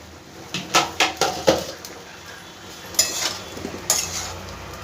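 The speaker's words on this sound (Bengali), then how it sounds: "ঢাকনাটা এবার একবার খুলবো।" Metal lid lifted off a pot of vegetarian beet greens chorchori cooking over a medium gas flame: a quick run of sharp clinks and clatters, then a couple of louder knocks and a soft rattle, close by with no talk.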